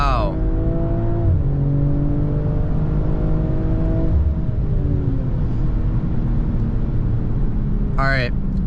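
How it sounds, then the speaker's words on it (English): A 2023 BMW M340i pulls hard under acceleration, its engine note climbing steadily in pitch through the gears with brief dips at each shift, loud and continuous from inside the cabin. "This car has some serious acceleration."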